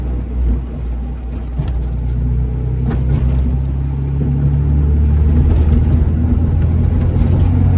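Acura Integra with a swapped B20 VTEC engine and LS transmission idles while warming up, a steady low rumble that runs alone, close and fairly loud, with no voices.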